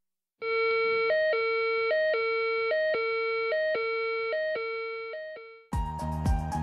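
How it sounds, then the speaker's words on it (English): A loud electronic two-tone tornado warning alarm pulses in a steady repeating pattern for several seconds, then a harsher, denser tone cuts in abruptly. "Here is a demonstration of what the tornado warning sounds like."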